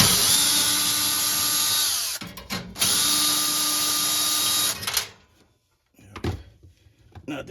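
A power drill backs out quarter-inch screws from a GE Cafe gas oven during an igniter replacement, two sustained whirring runs of a couple of seconds each, close and loud, followed by short clicks and handling noises.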